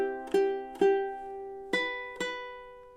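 A ukulele plays one measure of a song: four plucked notes ringing close and clean, two quick pairs separated by a short gap, with no voices.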